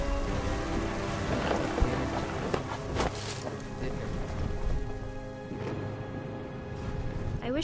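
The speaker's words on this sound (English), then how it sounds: "The thunder sounded much too close and full of angry power." Steady heavy rain with rumbling thunder in the narrative game What Remains of Edith Finch, a dense continuous wash with a few sharper cracks and booms throughout.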